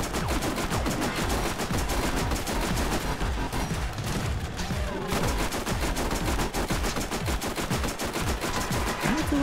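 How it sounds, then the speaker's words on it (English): SMG fire in Borderlands, Mad Moxxi Underdome arena: sustained rapid bursts of automatic shots, loud and dense, with a brief lull near the middle before the rattling resumes. "I don't feel like the SMG is doing what it normally does."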